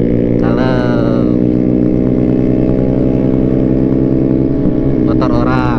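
A 2021 Kawasaki Ninja ZX-6R motorcycle engine idles loudly and steadily up close, with brief revs rising near the start and again near the end, and a voice faintly present underneath.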